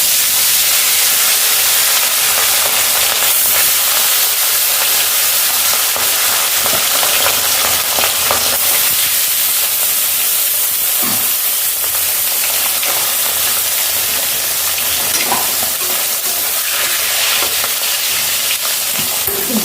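Fish sizzles and fries in hot oil in a wok, a loud, steady, dense crackle that runs on for the whole stretch, with no talk over it.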